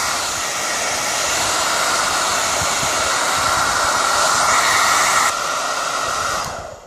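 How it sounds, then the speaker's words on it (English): A hair dryer blows steadily on a shaped felt hat crown, a loud continuous rushing whoosh that holds for several seconds and cuts off at the end, with no voices. "you have your hair dryer, and you start by doing this."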